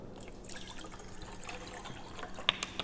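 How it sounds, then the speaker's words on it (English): Water trickles and drips as it is poured into a vessel resting on an induction stove, a quiet, close liquid sound with a few sharper splashes near the end. "and pour in the water."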